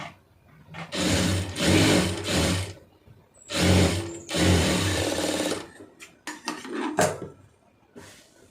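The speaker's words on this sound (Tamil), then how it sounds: "மடிச்சுட்டு இப்போ இந்த எஜ்ஜில் வந்து ஒரு தையல் போட்டுருங்க" Sewing machine stitching along a folded fabric edge on a blouse, several bursts of rapid mechanical whirring separated by short pauses.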